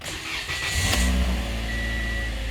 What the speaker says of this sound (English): actually now you want to start the engine.